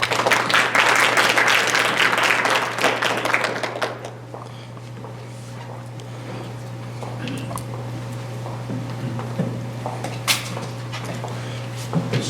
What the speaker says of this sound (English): let's give a round of applause to George Scott